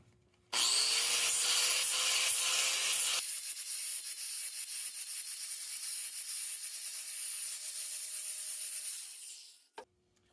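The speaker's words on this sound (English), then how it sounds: "Now I'll break the edge with a flat disc." An angle grinder with a flat disc breaking the welded edge of a Case 310 dozer valve cover: a loud, harsh grinding whine starts abruptly, carries on steadily for about nine seconds, then spins down, followed by a brief clunk.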